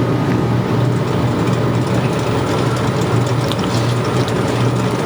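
A wood lathe spins a green bowl blank mounted on the chuck, giving a steady, loud mechanical whir with a low motor hum and a faint rattle that never lets up.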